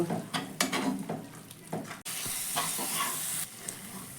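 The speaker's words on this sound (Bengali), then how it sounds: "হলুদ গুঁড়োটা দিয়ে ভালো করে আমি মশলাটাকে কিন্তু কষিয়ে নেব" Ground spice paste with turmeric powder frying in oil for an egg curry, with a few scraping stirs in the first half, then a steady, close, bright sizzle that holds to the end. No voices.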